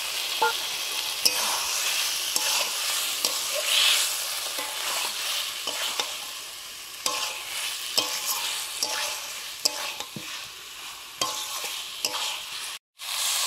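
Fried eggplant and egg are stirred into a cooked-down masala, with repeated spatula scrapes and clacks over a steady sizzle. A short pause comes near the end, and there is no talking.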